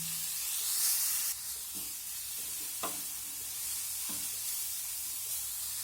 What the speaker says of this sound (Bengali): লবণটা দেওয়ার পর আমি আবারও সব কিছু মেরে চেড়ে ভেজে নেব